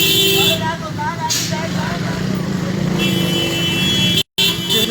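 Heavy road traffic in Attock's Madni Chowk: a steady rumble of idling and moving cars, motorcycles, buses and trucks, with horns tooting nearby and voices mixed in.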